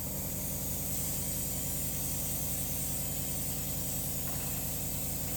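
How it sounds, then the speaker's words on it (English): An airbrush machine used while decorating a superhero cake sprays in a continuous, steady hiss with a low motor hum underneath, close and constant for several seconds with no talking. "And the airbrush machine,"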